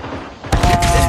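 A sudden loud burst of gunfire in a Call of Duty Hardpoint match, with a dense, sustained crackle of shots that follows a quieter stretch of game noise.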